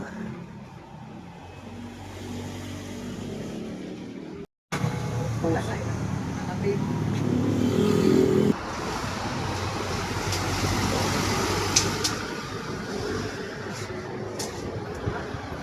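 A Yamaha Mio i 125 scooter engine runs and revs outdoors after being soaked in rain, a steady mid-level drone under wind and nearby voices talking, with one brief dropout midway.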